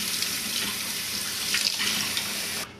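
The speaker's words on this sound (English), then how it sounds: "I'm rinsing now for the second or third time in another strainer" Tap water runs steadily into a strainer as chipotle pepper seeds are rinsed, a loud, close, continuous splashing rush that cuts off abruptly at the end.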